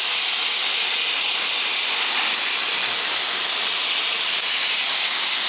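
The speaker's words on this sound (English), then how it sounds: "I'm just gonna rinse off these filters while I'm here." Water spraying over washable filters from an old Goodman R22 AC condenser, a steady, loud hiss of rinsing that runs unbroken throughout, with no talking.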